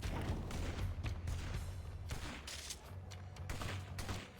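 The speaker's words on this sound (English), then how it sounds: "What are they shooting at?" Rapid bursts of gunfire in the Infamous video game fill the scene with dense, overlapping volleys and booms that keep going with no break, loud and close.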